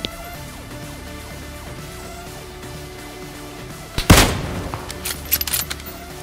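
Low rumbling game ambience from PUBG Mobile gives way to a sudden loud gunshot-like blast, followed by a few scattered sharper shots in the distance.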